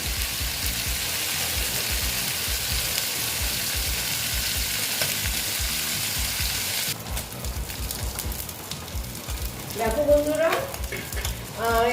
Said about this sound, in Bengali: আস্তে আস্তে আমি ভেজে নিচ্ছি